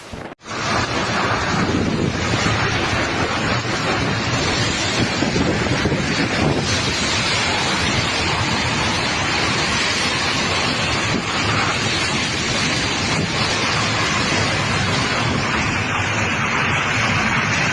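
Typhoon Julian's strong winds and rough sea in the Philippines, a loud, continuous roar of gusting wind and crashing surf with heavy microphone buffeting, unbroken for the whole stretch after a brief quiet start.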